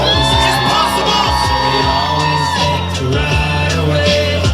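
A crowd yells, whoops and cheers loudly and continuously at a street performance in Times Square, New York City, with music and amplified sound blended underneath.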